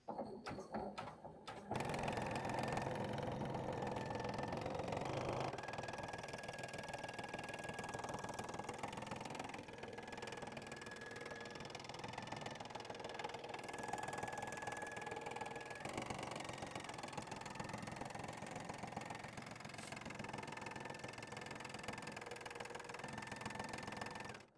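A Poolin EOC07 embroidery machine stitches a tack down stitch on baseball bag tag material, giving a steady, continuous mechanical whir with a fast rhythmic needle chatter that runs the whole time at close range, with no talk.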